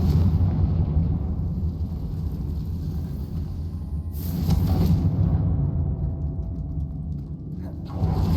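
Confringo spell explosions in the Hogwarts Legacy video game, a loud sustained rumbling blast with a sharper burst midway, heavy low boom rolling on without speech.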